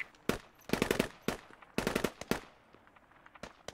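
Machine gun fire in the military shooter game Squad, with LMG weapons in a militia versus US Army battle: several rapid bursts of automatic gunfire with sharp cracks and short pauses between them, fairly close and loud.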